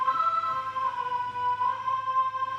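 A sustained synth tone with steady harmonic partials, smeared by echoing repeats and a soft reverberant tail, playing alone.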